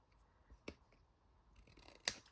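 Scissors snipping along patterned craft paper, following a template cut for a paper pocket set; a few short, faint cuts spaced apart, then one sharper, louder snip near the end.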